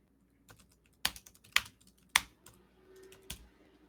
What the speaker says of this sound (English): So I'm actually typing.